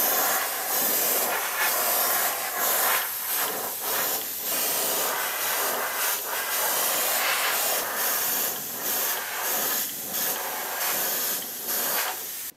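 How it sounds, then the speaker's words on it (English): Polyacrylic sealer is sprayed onto a handmade teak wood fishing lure, giving a steady close hiss with short pulsing bursts that continue without pause. "So I'm gonna seal it with some polyacrylic."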